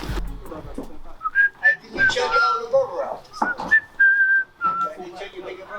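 A person whistles a short wavering tune in bursts, mixed with talking and dog-like whimpers nearby.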